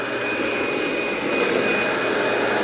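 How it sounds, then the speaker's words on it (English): A commercial vacuum cleaner with its brush roll engaged runs on entry mats in a janitorial setting, a loud steady whine with a constant high tone and an even roar throughout. "now you hear the brushes kick in"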